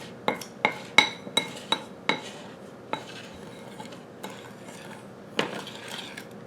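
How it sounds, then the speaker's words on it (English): Sugar and cornstarch stirred together in a bowl with a metal spoon, giving a rapid run of sharp clinks against the bowl early on, then sparser taps and soft scraping, close and fairly quiet. "I am mixing the sugar and the cornstarch."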